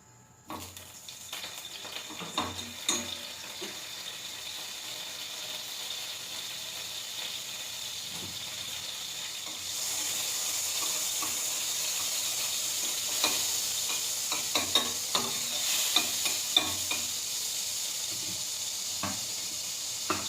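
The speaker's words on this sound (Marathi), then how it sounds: "मी आता हे बटर टाकते त्यामध्ये थोडंसं" Butter sizzling in a pan of paneer masala gravy, a steady moderate hiss running throughout that grows louder and brighter partway through, with small pops and crackles scattered over it and no talking.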